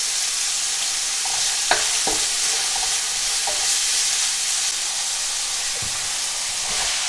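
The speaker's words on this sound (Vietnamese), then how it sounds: "Gao là mình phải xào nha cả nhà" Clams being stir-fried in a pan for Korean seafood jjamppong, with a steady, loud sizzle throughout and a few sharp clinks and scrapes as the pan is stirred, no voices.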